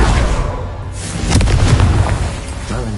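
A Confringo fire spell blast in the Hogwarts Legacy video game: a loud, booming explosion with a sustained rumbling burst and crackling debris, alone without talk.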